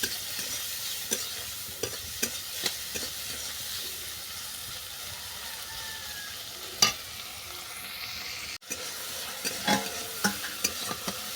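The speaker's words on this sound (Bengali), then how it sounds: "চিংড়ি মাছটা ভালো করে ভেজে নিচ্ছি" Shrimp frying in hot oil with ground turmeric, a soft steady sizzle and hiss punctuated by occasional spatula taps and stirring clicks.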